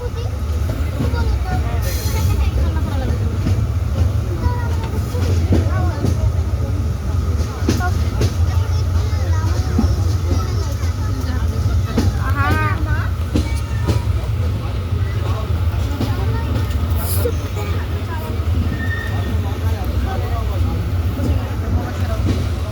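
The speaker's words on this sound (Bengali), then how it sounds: "আমরা সম্ভবত তিন নম্বর প্ল্যাটফর্মে প্রবেশ করছি নাটোর রেল স্টেশনের" The Titumir Express train rolls into Natore railway station toward platform three, a loud continuous rumble of wheels and carriage noise with a squeal of brakes midway and faint passenger chatter underneath.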